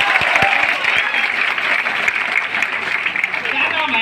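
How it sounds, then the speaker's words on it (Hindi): Loud applause from a workshop audience, a thick, continuous clapping wash with some sharper individual claps near the start and voices faintly audible underneath. "इसलिए जोरदार ताली होना चाहिए।"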